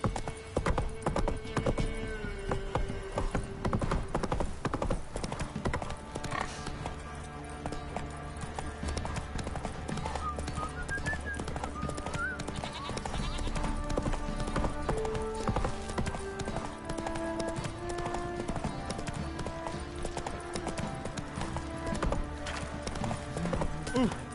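Horse hooves clip-clop steadily throughout a scene in The Witcher 3 video game, mixed with game music and ambient sound, with an occasional whinny.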